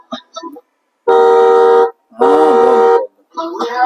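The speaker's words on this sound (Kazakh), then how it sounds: "Сигналы барбы?" Horn of a children's electric ride-on toy car sold in a shop, sounding two sustained, loud melodic honks of about a second each, with brief voices before and after.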